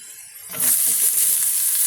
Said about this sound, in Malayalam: നമുക്കിതിലേക്ക് സവാള ഇടാം.